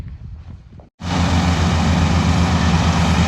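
A tractor engine roars into a loud, steady drone while straining to pull a trolley stuck in soft soil in a potato field, starting abruptly after a short moment of quieter background noise.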